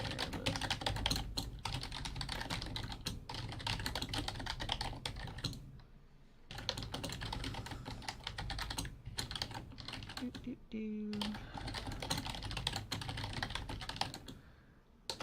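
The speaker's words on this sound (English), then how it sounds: "you're typing as loud as fuck in my ear," Loud, fast typing on a computer keyboard clatters close to the microphone in dense bursts, broken by a few short pauses, with no talk over it.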